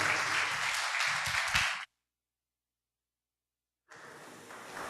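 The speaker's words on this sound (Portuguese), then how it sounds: "Uma salva de palmas, Jesus." Church congregation applauding during a sermon, a steady burst of clapping that cuts off into silence and then resumes.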